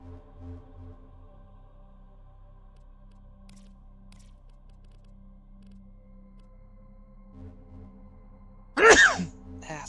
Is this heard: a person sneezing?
yes